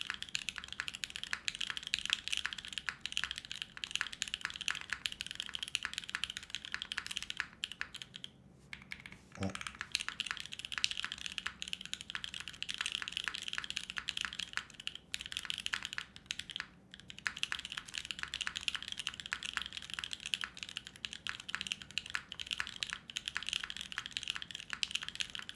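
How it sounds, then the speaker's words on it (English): Rapid, continuous clacking of keys on an o-ring mounted mechanical keyboard with a polycarbonate plate, typed fast and close, with a brief pause midway and no talking. "it's literally just random letters I'm typing"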